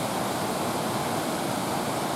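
Kuang Si waterfall near Luang Prabang, Laos, with turquoise pools on a hillside: a steady, dense roar of falling water, close and unbroken, with no voices.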